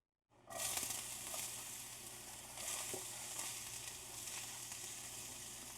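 Onions hitting hot olive oil in a preheated pan set off a loud, steady sizzle that starts abruptly and holds with crackling pops throughout, no voices over it.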